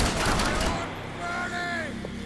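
Gunfire in the Max Payne 3 video game, a burst of sharp shots at the start that gives way to a mix of voices and effects, with talk running through.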